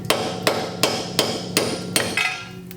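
Seven sharp, evenly spaced hammer blows strike factory Miata wheel studs, each a loud metallic crack with a short ringing decay, close up and with no voices.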